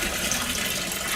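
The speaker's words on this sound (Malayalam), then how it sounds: "4 കപ്പ് വെള്ളം ആഡ് ചെയ്തു" Water poured into a plastic drum for tilapia fish farming, a continuous close rushing splash, steady and loud for the whole short stretch, with no voices.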